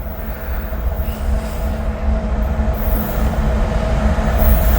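An ethanol freight train rolls past on a cold day, its railcars rumbling steadily and loudly with faint wheel squeal throughout.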